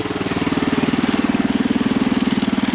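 Husky 600 garden tractor engine running on rough terrain, a loud, close, steady rhythmic chug with regular pulsing throb and no talk.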